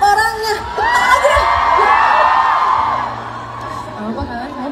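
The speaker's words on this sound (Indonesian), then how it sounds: "Tepuk tangan lagi sekali buat kalian." A concert crowd at a show in Lombok whoops and cheers, the sound swelling into a loud mass of shouting voices and then fading toward the end.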